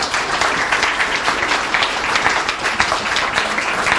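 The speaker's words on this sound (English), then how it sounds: "Let's give a round of applause" An event audience gives a sustained round of applause, a thick steady wash of many clapping hands, fairly loud and even throughout.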